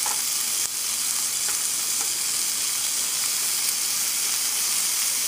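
Chicken dropped into a hot pan, a loud dense sizzle and hiss that holds steadily throughout, with faint clicks of stirring underneath.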